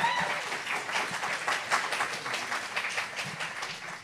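An audience claps for a guest at a talk, a full, continuous patter of many hands that swells and eases slightly across a few seconds.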